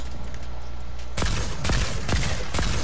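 Video game gunfire: after a quieter stretch, four sharp, loud shots ring out in quick succession, each with a short echoing tail.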